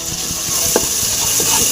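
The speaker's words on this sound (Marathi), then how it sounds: "छानपैकी मिक्स करूया. आपल्याला हे सर्व मसाला छानपैकी भाजायचा आहे." Masala for Marathi-style dal khichdi, including Everest spice powder and fresh coriander, being stirred and roasted in a pan, with a steady soft sizzle and intermittent spoon scrapes close by, no talking.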